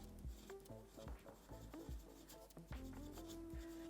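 A pen writing on paper, close and quiet, with a series of short scratching strokes in an uneven rhythm.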